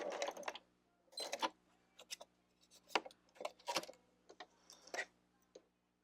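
A sewing machine back tacking a few stitches on a cloth napkin, giving short bursts of quick ticking needle strokes separated by pauses, close and fairly quiet.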